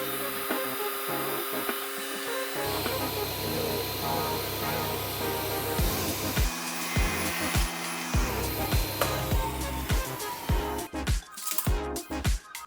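A HONGDUI HD-MG21 saw making a full-width 910 mm cut, a sustained motor whine with grinding blade noise through the material, ending in a series of short knocks and rattles.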